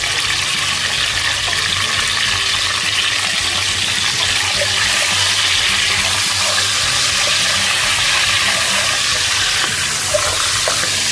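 Mutton goes into a pot with cardamom, bay leaf and peppercorns for a goat curry, giving a loud, continuous sizzle and hiss that runs steadily throughout with no talking.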